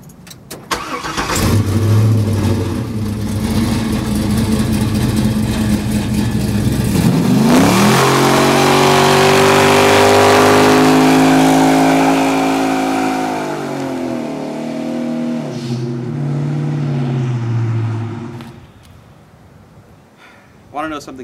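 An LS3 V8 in a 1969 Chevy El Camino cranks and catches, then revs hard in a sustained roar before settling into a lumpy idle and cutting off, loud and close in a garage.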